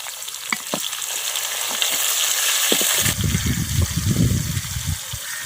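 Tomatoes frying in a pan for chicken aloo salan, a loud close sizzle that turns bubblier and more agitated partway through as the pan is stirred.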